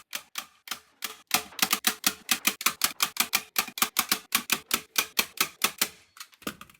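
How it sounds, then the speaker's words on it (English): A staple gun fires again and again at close range as yellow fabric is fastened over a foam seat, about two dozen sharp clacks at a brisk, fairly regular pace, then stopping. "I tried on my Mr. Scooty yellow piece of fabric and stapled it into place."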